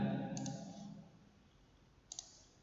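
A few soft mouse clicks, two short pairs spaced apart, over faint room hum with a fading murmur at the start, on a computer running a C# program.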